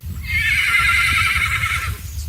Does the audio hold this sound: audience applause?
no